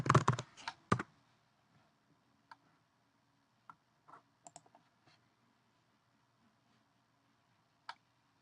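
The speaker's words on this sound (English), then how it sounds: "Just type your password in for your administration rights on your computer." Computer keyboard being typed on to enter a password, a quick burst of clicks at the start followed by sparse, faint single key taps in a quiet room.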